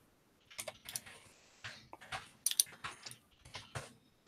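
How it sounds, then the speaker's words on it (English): Keys clack on a computer keyboard while someone types a message, in quick irregular bursts of close taps with brief pauses and no talking. "I was typing a message."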